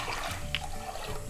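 Water pours into a pot of rice and split lentils, a short, fairly faint splashing stream lasting about a second.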